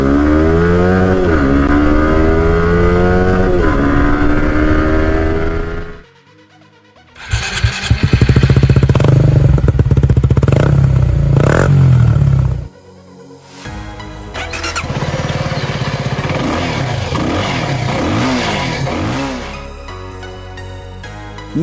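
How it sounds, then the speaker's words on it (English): Exhaust of a sport motorcycle such as a Yamaha R15, Suzuki GSX-R150 or CFMoto 250SR, loud close revving in several sustained bursts with rising and falling engine pitch and brief pauses between them. "Exhaust sound."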